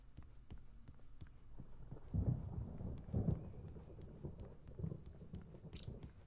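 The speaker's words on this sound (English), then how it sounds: "Sounds like there's a storm outside" Thunder rolls outside during a storm in the video game Alan Wake Remastered, low muffled rumbles swelling in a few bursts amid faint clicking sounds, with no one speaking.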